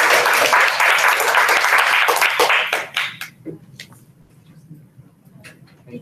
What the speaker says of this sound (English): We get a round of applause